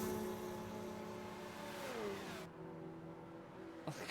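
Racing cars in Gran Turismo 5, an Audi A4 and a Mercedes CLK dueling, engines droning and revving with pitch sweeping down as gears shift, a steady mid-loud whine that cuts off abruptly partway.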